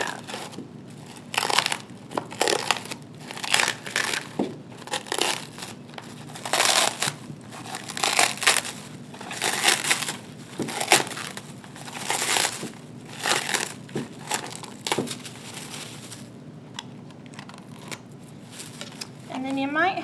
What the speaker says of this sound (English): you can take your ball out and peel away the plastic wrap